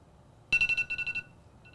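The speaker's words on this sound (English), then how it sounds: "Now that our timer has gone off" A kitchen timer goes off with a quick series of about nine bright, loud electronic beeps in a rapid even rhythm, then cuts out, with one faint beep returning at the end.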